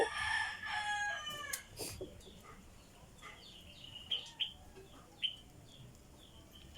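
A rooster crows loudly at the start, followed by scattered short bird chirps and clucks outdoors, with no talking.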